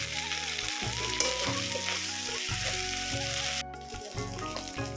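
Ginger, garlic and onion paste sizzling in a hot pan, a dense steady hiss with light stirring, briefly cutting out near the end before resuming a bit quieter.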